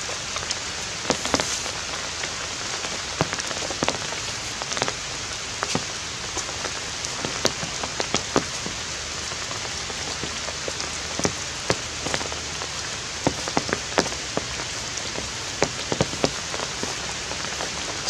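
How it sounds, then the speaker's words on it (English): Steady light rain falling outdoors at a stone restoration site, a constant dense hiss of drops with scattered sharper close taps on surfaces throughout, and no voices. "it's just light rain."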